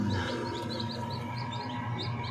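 Newly hatched chicks peep inside a loaded egg incubator, a rapid series of soft, high chirps repeating over a steady fan-like hum, fairly faint and close, with no talk.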